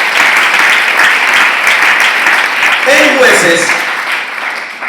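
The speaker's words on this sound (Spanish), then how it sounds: "Denle un aplauso fuerte al Señor Dios Todopoderoso." A church congregation claps loudly and steadily in praise to God, a dense sustained wash of applause with a voice briefly speaking over it near the end.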